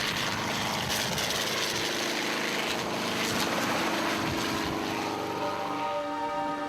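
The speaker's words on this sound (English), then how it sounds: "As the helicopter circled around for another pass" Helicopter flying overhead and circling for another pass above a crop circle in farm fields, a steady broadband rotor and engine roar that holds loud and constant throughout, with no talking.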